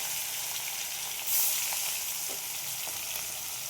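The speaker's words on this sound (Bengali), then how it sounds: "মাছগুলো আমার ভাজা হয়ে গেছে" Steady, dense sizzling of shankar fish (stingray) frying in hot oil, continuous throughout with a brief louder crackle partway through.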